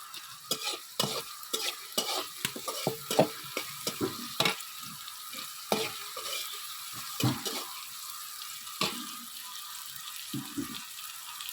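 Spice paste with onion frying in oil in a pan while being stirred, giving a run of quick scraping, clacking strokes over a continuous sizzle, close up, thinning out toward the end.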